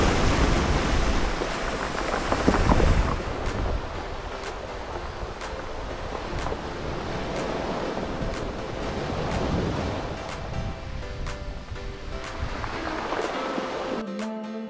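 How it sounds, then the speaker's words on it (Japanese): Ocean surf at a Japanese seaside snorkeling and diving spot: a continuous broadband wash of waves with a stronger surge early on, then a steady roll, and no voices. "結構波がありますね。"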